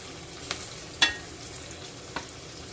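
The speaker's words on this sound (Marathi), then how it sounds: "तेल गरम झाल्यानंतर आपण त्यामध्ये दोन कांदे टाकलेले आहेत आणि ते आपल्याला चांगले गोल्डन ब्राऊन होईसपर्यंत परतायचे आहेत" Two onions fry in hot oil with a low, steady sizzle, broken by a few sharp clinks and scrapes as they are stirred in the pan, close and without talking.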